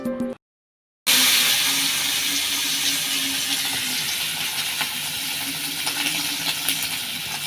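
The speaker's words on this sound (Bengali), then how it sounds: "মাছটা ভাজে নিতে হবে প্রথমে" Fish fries in a pan. After a short silent gap at the start, a loud, continuous hiss of hot oil follows, scattered with small crackles and pops.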